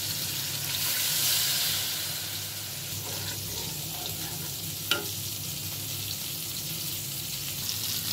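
Liquid poured into a pan of Bengali fish curry sets off a constant hissing sizzle that swells briefly and then settles, with a single sharp clink of a utensil partway through.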